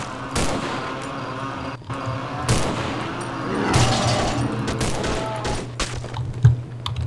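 Scattered gunshots ring out in Cry of Fear, sharp cracks spaced irregularly over a low hum, with clicking keys and faint background sounds between them.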